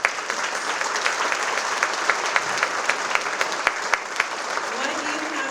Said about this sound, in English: it is worthy of a huge applause